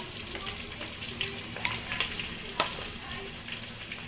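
Chopped ginger and garlic frying in white oil for chilli chicken fried rice, a constant bubbling sizzle with light scrapes of stirring, moderately quiet and close.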